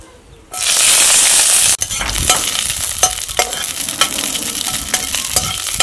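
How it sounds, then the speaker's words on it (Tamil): Green chillies dropped into hot sesame oil burst into a loud, close sizzle that flares for about a second, then settles into a crackling fry with scattered sharp pops and stirring clatter. "எண்ணெய் நல்லா சூடாயிடுச்சு முன்னாடி பச்சை மிளகாவை போட்டுக்கலாம்"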